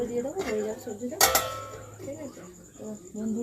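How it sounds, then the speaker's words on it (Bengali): A utensil clinks and scrapes against a pan while vegetables are stirred, giving a few sharp metallic knocks under a woman's speech. "দেখো একটু নাড়িয়ে দিলাম সবজিটা"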